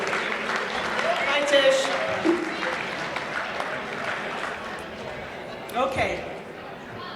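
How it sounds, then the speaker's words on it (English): Scattered applause rises and fades at a chamber of commerce chairman awards ceremony, moderate and uneven, with people talking and a short greeting spoken over it. "Let's give them both a round of applause"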